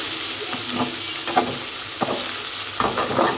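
Green chillies fry hard in a pan for a shing fish and kochur loti curry, a loud continuous sizzle broken by sharp scraping stirs and clinks of the spatula, with no speech.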